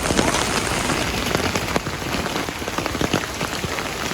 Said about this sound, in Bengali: মোটামুটি বৃষ্টি